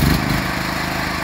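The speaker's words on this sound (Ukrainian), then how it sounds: "за допомогою кнопочки з електростартером ми заводимо" A Genergy Limited 7000 petrol generator, started by electric starter, runs with a loud, close, steady engine drone over a brief stretch.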